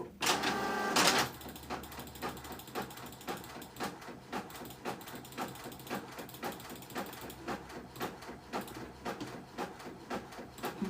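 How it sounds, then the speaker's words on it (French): A printer prints a page with a brief loud whir of the feed, then a long series of rhythmic mechanical clicks and ratcheting gear pulses, close up, with no talk. "comme ça je vais imprimer cette page-là"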